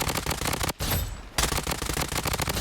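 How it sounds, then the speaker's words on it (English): MP5 submachine gun fire in a video game, loud rapid automatic bursts that break for a brief pause partway through and then resume at full intensity. "So first I will be checking my MP5."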